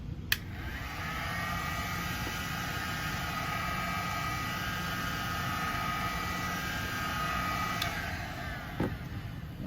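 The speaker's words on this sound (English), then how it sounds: "we're going to heat it up with the heat gun" A heat gun blows in a steady, even whirr as it warms the adhesive edges of a Samsung Galaxy A51 5G's back panel. The sound is faint and continuous, with a couple of soft clicks and no talking.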